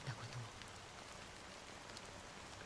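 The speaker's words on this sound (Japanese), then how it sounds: "だが雨はまだ止んでいない" Steady rain falls in the Honkai: Star Rail video game, a soft, even hiss of drops pattering on surfaces. It continues unbroken and fairly quiet throughout, with no voices over it.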